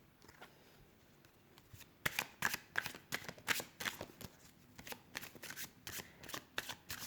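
Tarot cards are handled and shuffled close by. Quiet rustling at first gives way to a run of sharp, papery riffling bursts that repeat in an uneven rhythm.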